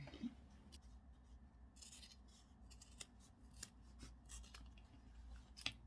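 Quiet, close snips of scissors trimming butterfly-print linen fabric for a pencil case, a series of sharp separate cuts at an irregular rhythm against a soft rustling background.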